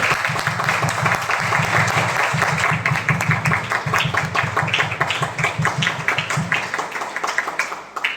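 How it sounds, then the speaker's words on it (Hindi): A seminar audience gives loud, vigorous applause, with dense rhythmic clapping sustained for several seconds before tapering off at the end. "जिसने कर लिया सबके लिए जोरदार ताली। जोरदार।"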